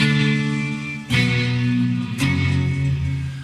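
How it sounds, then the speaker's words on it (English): Clean electric guitar chords from an Ibanez RG into a Peavey Viper amp on its clean channel, three strums with sustained, shimmering decay. "It's basically my Ibanez RG series into a PV Viper set up on a clean channel."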